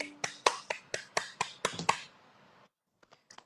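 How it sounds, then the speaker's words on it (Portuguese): A person claps their hands about ten times in a quick, steady rhythm, close and crisp, followed by a brief pause and a few faint taps. "Bate palma para mim, como se fosse aplaudir."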